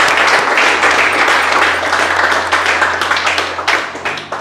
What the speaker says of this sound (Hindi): तो a huge round of applause for Pratipal.